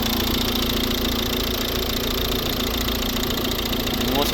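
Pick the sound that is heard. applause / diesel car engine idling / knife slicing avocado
diesel car engine idling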